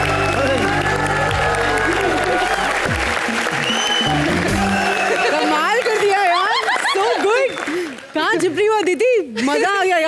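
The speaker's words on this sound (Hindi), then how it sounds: "आइए हमारी पार्टनर अदिति के लिए जोरदार तालियां हो जाए" A studio audience on a Hindi comedy TV show breaks into a burst of clapping that fades after a few seconds. Voices talk and exclaim over and after the applause.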